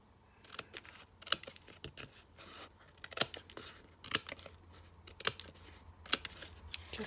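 Scissors snipping the ends off a paper card panel during a stamped card-making craft, heard as a handful of sharp, close cuts spaced about a second apart over quiet handling rustle.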